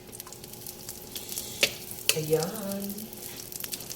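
Butter melting in cooking oil in a pan sizzles with a steady, soft crackle, broken by a couple of sharp clinks, while a voice speaks briefly.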